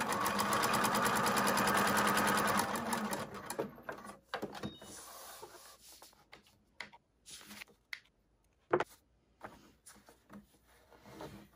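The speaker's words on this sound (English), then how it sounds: "Got that positioned, flip it over, and sew." A sewing machine stitches a foundation paper-pieced quilt block in a fast, steady mechanical whir for a few seconds, then stops, leaving scattered clicks and handling noises.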